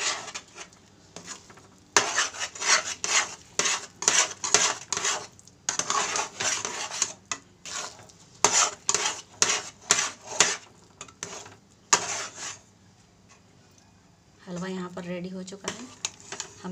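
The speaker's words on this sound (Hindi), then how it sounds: "यहाँ पर फ्रेंड हम लगातार चलाते हुए हलवे को भून लेंगे।" Chana dal halwa stirred and roasted in a pan, a spoon repeatedly scraping and clattering against the metal in quick strokes, close and loud, with a gap and then soft sizzling toward the end.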